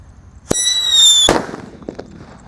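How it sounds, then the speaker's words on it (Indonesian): A sharp bang, then a rising whistling screech that ends in a loud crackling burst of a Happy Power 3 firework rocket, fading into scattered pops. "Selanjutnya ada Happy Power 3. Kita nyalakan."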